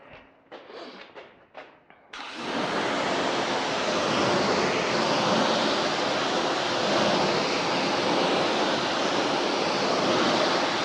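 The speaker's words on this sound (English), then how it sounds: "So now I'm going to pressure wash everything off here." A pressure washer rinses tire and rubber cleaner off car tires, a loud, constant broadband spray that starts after a few short sputtering bursts and then runs steadily and close.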